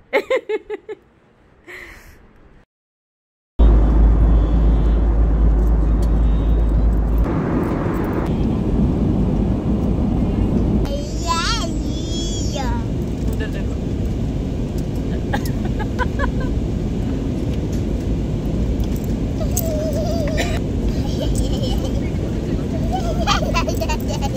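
An airplane landing in Kolkata roars with a steady, loud cabin rumble after a brief quiet start, people talking and laughing over it.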